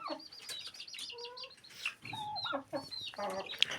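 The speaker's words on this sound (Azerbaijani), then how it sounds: "Bu toyuq da yumurtlayacaq idi, sizə yalancı çıxdım." A hen about to lay an egg clucks repeatedly in short, close, agitated calls, with other chickens and brief rooster-like squawks mixed in around it.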